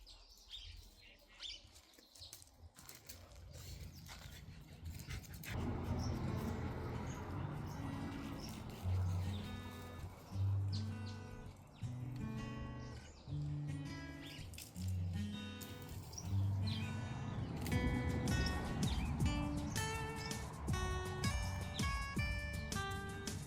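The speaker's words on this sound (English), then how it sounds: "Can you hear the birds?" Birds chirping and tweeting outdoors on a cloudy day, repeated short calls over a steady background hum, moderately near and fairly faint.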